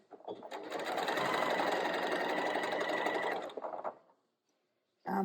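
A sewing machine stitches fabric for a costume in one steady whirring run of about three seconds, winds down to silence, then briefly starts again at the end.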